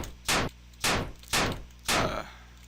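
Four heavy gunshot blasts in a video game under development, evenly spaced about half a second apart, each loud and booming with a short decaying tail, no voices.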